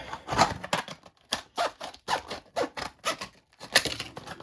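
Scissors cutting open tough plastic product packaging, a series of about a dozen sharp crisp snips and crinkles in an uneven rhythm, close and alone.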